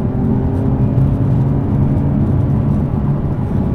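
A 2021 Porsche 911 Turbo S, 640 hp, holding third gear on a road, with a steady, loud engine drone and road rumble that runs unbroken and close throughout.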